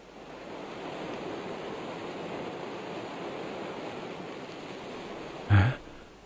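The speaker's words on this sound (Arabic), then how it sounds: "إن السماء تمطر" Steady rain falling, a dense even hiss of drops held at a constant level throughout, with a brief louder thump near the end.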